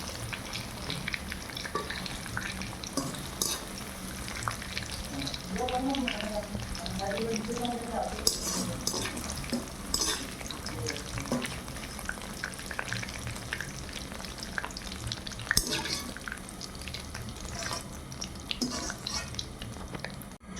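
Whole green cardamom, salt and cinnamon stick hit hot mustard oil in a pan, giving a continuous crackling sizzle with occasional stirring clinks and scrapes that keeps up for about twenty seconds.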